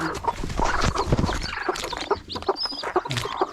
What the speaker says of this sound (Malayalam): കണ്ടോ വിരിഞ്ഞുകൊണ്ടിരിക്കുകയാണ് ചില കോഴിക്കുഞ്ഞുങ്ങളൊക്കെ